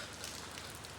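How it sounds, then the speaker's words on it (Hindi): Steady rain pours down outdoors at night, a dense, even hiss of drops hitting surfaces that stays constant throughout with no talking. "अब बारिश कितनी मस्त हो रही है देखना।"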